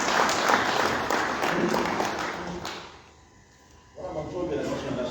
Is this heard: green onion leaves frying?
no